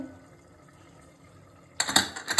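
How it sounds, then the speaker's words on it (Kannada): A kitchen tap is left running. After a near-silent stretch, an abrupt burst of splashing, gurgling water starts close by and continues loudly to the end. "ನೀರು ಆಫ್ ಮಾಡಲಿಲ್ಲ"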